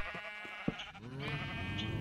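Sheep bleat in Minecraft 1.7.4 vanilla, with several wavering, drawn-out calls close by, one after another. A short knock comes in the middle and a steady background noise sits under the calls.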